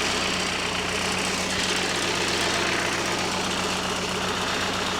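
The engine of an Agribuggy farm vehicle running steadily, a dense, continuous mechanical drone with a low throbbing hum, close and loud with no talk over it.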